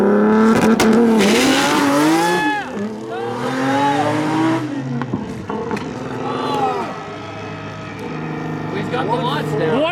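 A stick-shift drag race car on bias-ply tires launches hard, its engine roaring and rising through sweeping pitch climbs with a shift break between pulls, loud and close.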